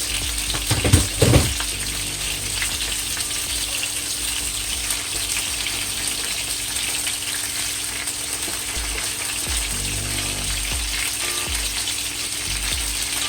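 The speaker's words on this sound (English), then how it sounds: "you're gonna fry this until it is crispy on one side" Butterfly snapper fish fries in hot oil with a steady, dense sizzle that stays loud and even throughout, broken by a few brief clunks near the start.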